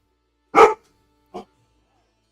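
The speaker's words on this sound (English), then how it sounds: "I think my dog's like upset that my dad is leaving to go to work" A dog barks indoors: one loud, full bark, then a shorter, quieter bark, with another starting as the clip ends, and silence in between.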